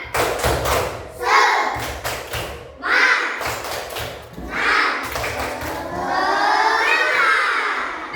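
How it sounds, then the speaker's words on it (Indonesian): Schoolchildren in a classroom perform a rhythmic clapping cheer, loud bursts of claps in patterned groups mixed with shouted chanting voices close by. "Oke, sekarang kita tepuk semangat dulu. Tepuk semangat."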